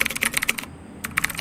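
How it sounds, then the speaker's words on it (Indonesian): Typing on a computer keyboard while entering text on a university e-learning site: rapid close-up key clicks in a quick burst, a short pause, then another run of taps, with no talk. "Nah, ini saya mau mengetikkan seperti ini."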